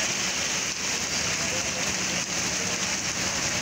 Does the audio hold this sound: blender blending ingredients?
no